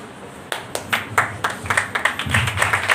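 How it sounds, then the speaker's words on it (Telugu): Hands clapping in a church congregation, a series of sharp claps that start after half a second and come in an irregular, quickening rhythm, fairly close and moderately loud. "చప్పట్లు కొట్టారు కోరు"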